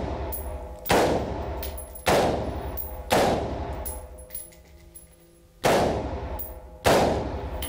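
A Glock pistol fired indoors at a gun store: five sharp, loud single shots spaced about a second apart, each with a short ringing decay, a brief pause before the last two.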